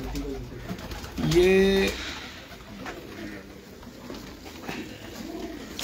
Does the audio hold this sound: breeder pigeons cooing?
yes